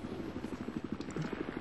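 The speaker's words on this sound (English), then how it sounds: "Chopper behind us." Helicopter in the Battlefield Hardline video game, its rotor beating in a fast steady chop, loud and close, heard alone without talk.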